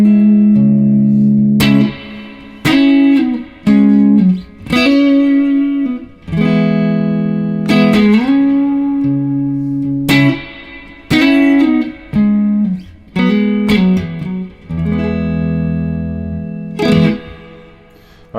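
Solo guitar playing a song's intro, heard alone with no talk: a sequence of sustained, ringing notes and chords separated by brief pauses, steady and fairly loud with a processed, effected tone.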